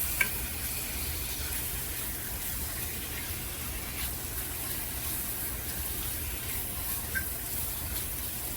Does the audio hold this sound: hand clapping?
no